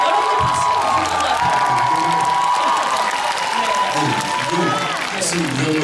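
Cinema audience applause and cheering at a live talk event fill the clip, steady and loud, with voices mixed in throughout.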